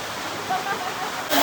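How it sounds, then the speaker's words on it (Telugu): A small artificial waterfall in a sculpture park in Dalat flows with a steady rushing wash of water, close and fairly loud, while faint voices come through and the noise swells near the end. "వాటర్ ఫాల్ చిన్న ఆర్టిఫిషియల్ వాటర్ ఫాల్"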